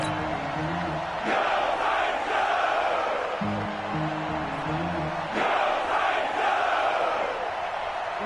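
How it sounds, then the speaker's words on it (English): A stadium crowd in a PS4 football video game roars steadily ahead of a big third down, swelling in broad waves of cheering over a low rumble, heard at a distance throughout. "The crowd getting into it as we come up on a big 3rd down."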